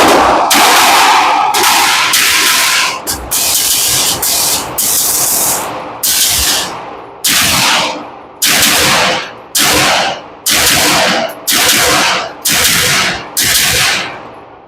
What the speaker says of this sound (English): Gonna run a little light through here. Get some double taps in.